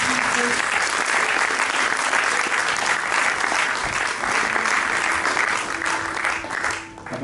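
Church congregation at a Thursday worship service applauding and cheering for Jesus, loud sustained clapping from a full room with scattered voices mixed in, easing off near the end.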